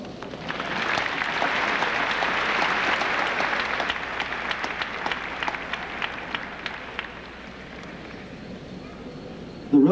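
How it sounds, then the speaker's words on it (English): Audience at a 1995 Valley High School graduation ceremony in Las Vegas breaks into broad, fairly distant applause that swells, then thins out after about seven seconds before a sudden bump at the end. "Give them a round of applause."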